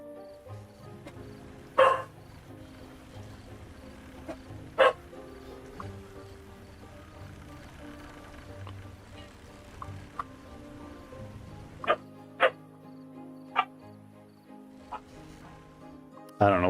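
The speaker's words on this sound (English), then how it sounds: "I don't know what they're barking at." Dogs bark in short, scattered bursts, some sharp and loud, others fainter and farther off, separated by quiet pauses over a low background hum.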